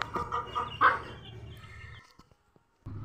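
Chickens clucking nearby in short repeated bursts, with a rustling pause and then quieter background noise.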